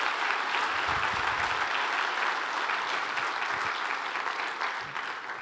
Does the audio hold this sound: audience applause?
yes